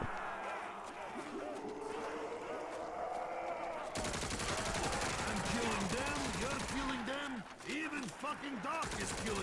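Steady rapid gunfire in Call of Duty Zombies on the Moon map, continuous and fairly faint, with talking heard over the shooting.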